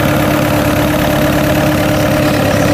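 A rice-carrying cargo boat's engine idles and runs steadily, a loud, continuous low throb with a constant mechanical hum throughout.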